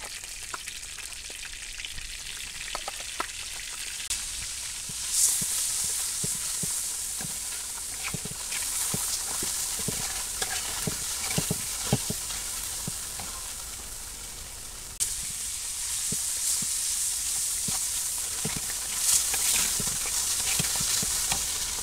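Prawns frying in a pan in a village kitchen, a continuous sizzle with repeated stirring scrapes and clicks, surging louder at moments as the pieces are moved, no talking.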